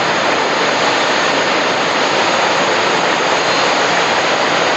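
Long whitewater rapid on the Nolichucky River roaring loud and steady, run by raft, a dense unbroken rush of churning water with no pauses throughout.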